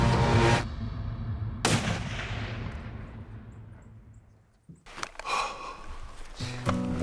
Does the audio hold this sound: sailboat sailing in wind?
no